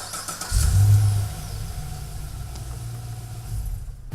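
A Holden SS VF Commodore with a 6-speed automatic at a Redcliffe, Brisbane car dealership fires up by remote start, a loud crank-and-catch burst that quickly falls to a steady, rumbling idle.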